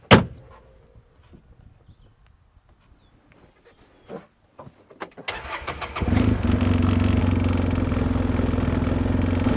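A UTV fitted with KemiMoto side mirrors pulls away on a test ride after a door thud and a few quiet clicks, its engine then droning steadily and loudly for the rest of the clip.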